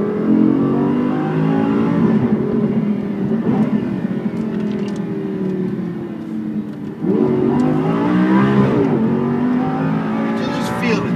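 A Lamborghini Huracan Superleggera's V8 engine revs hard and close, climbing toward its high redline, easing off, then surging again in a second loud rising rev.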